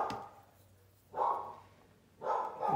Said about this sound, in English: And there's my dog barking at UPS guy